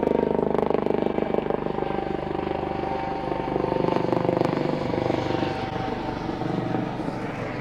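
A helicopter flies overhead near beehives beside flowering field beans and a wildflower meadow, its loud steady rotor and engine drone filling the whole clip with no break.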